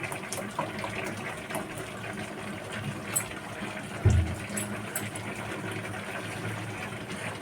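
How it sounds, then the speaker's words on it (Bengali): Water poured into a pot of dal for a vegetable curry, a continuous close gushing pour with a low thump midway and a few faint clinks, no talk. "ডালের ভিতরে দিয়ে দেবো জল"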